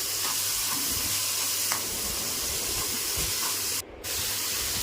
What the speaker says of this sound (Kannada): ಒಂದು ಚಿಕ್ಕ ಬಾಣಲಿ ತೊಗೊಂಡು ಅದರಲ್ಲಿ ಕಟ್ ಮಾಡಿರುವಂಥ ಶುಂಠಿ ಮತ್ತು ಬೆಳ್ಳುಳ್ಳಿ, ಕೊತ್ತಂಬರಿ ಸೊಪ್ಪು, ಈರುಳ್ಳಿ, ಟೊಮೊಟೊ ಹಾಕಿ ಚೆನ್ನಾಗಿ ಫ್ರೈ ಮಾಡ್ಕೊತಾ ಇದ್ದೀನಿ